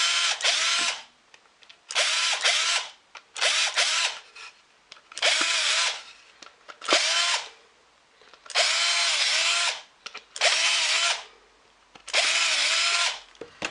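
A power drill bores holes in a wooden board for a storage box, eight or nine separate whirring bursts of a second or so each, close and loud, with short quiet gaps between them.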